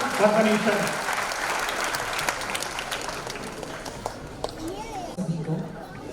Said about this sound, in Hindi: पूरा सदन उल्लास के साथ एक बार जोरदार तालियां बजाकर उन्हें आमंत्रित करेगा